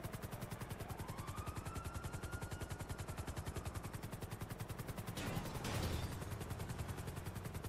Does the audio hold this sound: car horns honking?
no